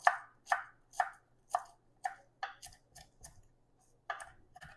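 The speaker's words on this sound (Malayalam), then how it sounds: "ഇത്ര എടുത്തിട്ട് പിന്നെ നമുക്ക് കട്ട് ചെയ്യാം വളരെ തിന്നായിട്ട് സ്ലൈസ് ചെയ്യണേ" A knife slicing finely for a watermelon and feta salad, with about ten crisp, evenly spaced chops on a board at a steady rhythm, close and clear, with no talking.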